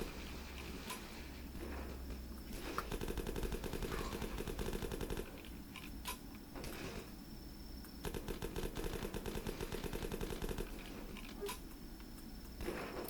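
Rapid UMP submachine gun fire from the video game The Last Stand 2 rattles in steady bursts separated by brief pauses, loud and continuous with no voices.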